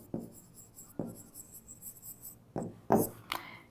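Pen or chalk strokes during a law lecture on the Code of Civil Procedure: four or five short, scratchy bursts of writing a second or so apart, fairly close and clear, with no speech over them.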